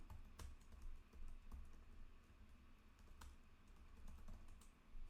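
Computer keyboard typing, a steady run of light, close key clicks with a few sharper taps, quiet and without any voices.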